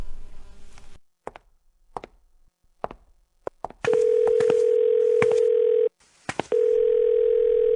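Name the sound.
telephone call ringing unanswered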